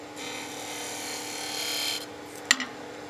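A skew chisel shears a V groove into wood spinning on a lathe, a steady close rasping cut for about two seconds that stops abruptly, followed by a couple of sharp ticks of the tool.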